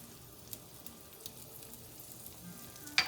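Butter with sage and paprika sizzles quietly in a pan, a soft, steady hiss with faint crackles and a brief clink at the end.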